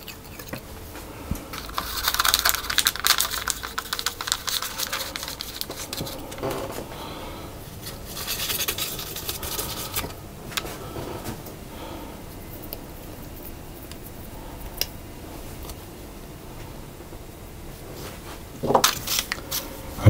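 A knife trims excess pastry from the edge of a pork and egg pie, giving close, scattered scraping and tapping cuts with brief louder bursts and quieter stretches between.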